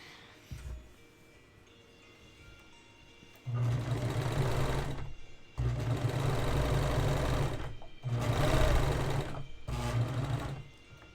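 A serger sewing machine runs in three loud, close bursts of rapid whirring, each lasting a couple of seconds with brief pauses between, after a quieter lead-in with a few small clicks.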